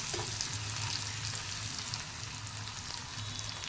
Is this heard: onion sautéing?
yes